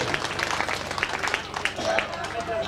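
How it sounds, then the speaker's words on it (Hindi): An audience at a Bhagavat Katha religious gathering at a temple claps in a short, scattered burst of applause, heard beneath someone speaking over a loudspeaker. "जोरदार ताली बजाइए आप सभी"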